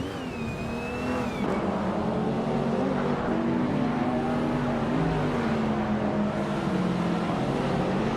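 Engine of a 2014 Toyota FT1 race car in a racing video game, a loud steady droning whine that rises in pitch as it accelerates, with shifting tones and a constant roar throughout.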